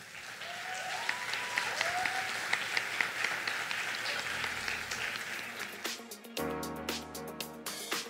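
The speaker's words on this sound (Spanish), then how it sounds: "recibir con un fuerte aplauso a Elisa Araujo" Audience applause at a student singing concert, a steady wash of clapping from a crowd at moderate distance, tapering off as music begins toward the end.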